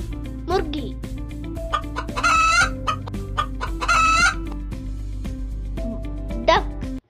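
Hens cluck and squawk nearby while a rooster crows loudly twice, the calls overlapping in a busy farmyard chorus.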